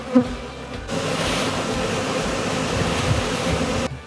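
A dense, steady buzzing of many bees around hives on a New Zealand manuka honey farm fills the air up close, swelling slightly at moments, with a bump of handling noise at the start.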